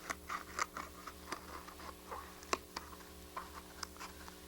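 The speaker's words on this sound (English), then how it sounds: "these scissors are really tiny." Tiny scissors snip paper along a line, a series of quiet, sharp clicking cuts in an irregular rhythm over a low steady hum, close and faint.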